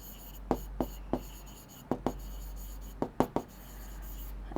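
Chalk or marker tapping and scratching on a classroom board in short, separate strokes with gaps between them, over a low steady hum and no speech.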